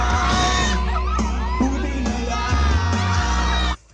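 A crowd at a fiesta show screams and cheers loudly, high-pitched whoops and yells overlapping in a continuous roar up close, cutting off abruptly near the end.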